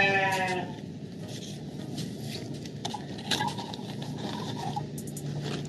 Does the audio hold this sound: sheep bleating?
yes